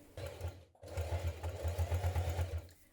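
A sewing machine stitches a folded denim strip into a coat loop for a jean jacket, running in a steady rapid pulsing burst with a brief pause near the start before resuming, close and fairly loud with no talk.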